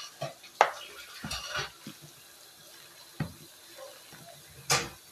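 Hash brown casserole ingredients stirred in a bowl, scattered soft scraping and wet clunks, irregular and fairly quiet, with a few louder knocks.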